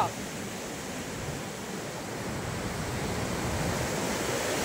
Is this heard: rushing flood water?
yes